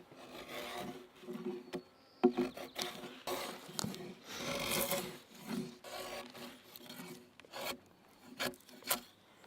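Weathered gray wood being scraped off a log for a single-log bridge handrail: repeated close rasping strokes of uneven length with short pauses between them, with no talking.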